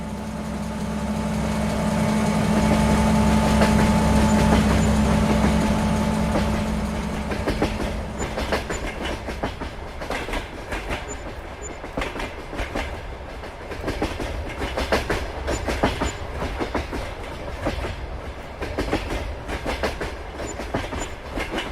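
A train in Farming Simulator 22 rumbles loudly past up close, a steady roar that gives way to rapid rhythmic clickety-clack of wagons rolling over rail joints for the rest of the passage.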